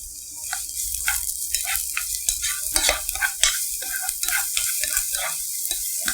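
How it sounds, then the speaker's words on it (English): Carrot frying in hot cooking oil in a pan, a steady high sizzle punctuated by frequent clicking stirs and scrapes, close and moderately loud with no talking. "now I will fry this carrot first"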